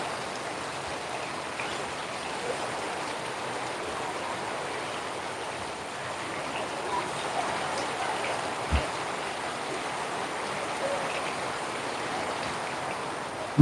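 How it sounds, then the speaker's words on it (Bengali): Heavy downpour of rain, a continuous broad wash of falling water heard steadily throughout, with a few soft drops and taps standing out faintly. "মুসল ধারে বৃষ্টি হচ্ছে"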